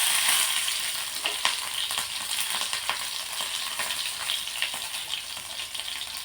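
Green chilli pieces frying in hot oil, a steady close crackling sizzle with bright spattering pops running throughout, no voices.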